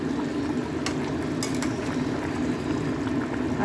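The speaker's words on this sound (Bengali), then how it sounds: "ডিমের ঝোল টক টক টক টক করে ফুটছে।" Egg curry with large potatoes boiling in a pot, a steady dense bubbling and simmering that carries on evenly and loudly at close range without any talking.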